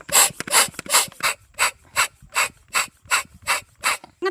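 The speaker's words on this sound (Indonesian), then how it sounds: "Kita kencangkan dulu bautnya juga ya, kencangkan ya rasa-rasa ya" Ratchet tightening a motorcycle oil drain bolt: about a dozen regular back-and-forth clicking strokes, close and crisp, evenly spaced with short gaps between.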